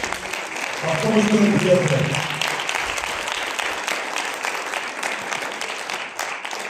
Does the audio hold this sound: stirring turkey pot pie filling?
no